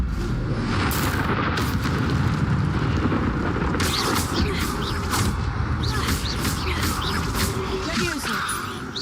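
Incendio fire spell in Hogwarts Legacy, a dense roaring blast with crackling bursts sustained loud across the whole stretch, mixed with game noise and a speaking voice.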